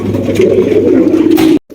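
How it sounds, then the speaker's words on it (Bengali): Racer pigeon, a maxi racer, cooing in a steady low droning burble for about a second and a half, close and loud, before a sudden cut to near silence. "আরো একজন রেসার কবুতর মাক্সি রেসার ডাকতেছে"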